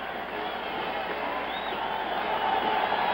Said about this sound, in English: this crowd is going to applaud Joe Namath